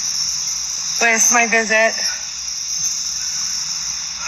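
Cicadas drone in a constant high-pitched buzz that stays loud throughout, while a person speaks briefly over it in the middle.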